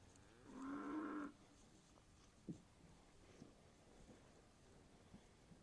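On a farm where cows and calves have been separated, one cow lets out a single loud, drawn-out moo, followed by a quiet yard with a soft thump and faint shuffling.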